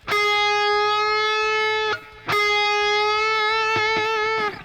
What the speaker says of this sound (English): So the first type of bends that I use in my guitar playing are half-step bends.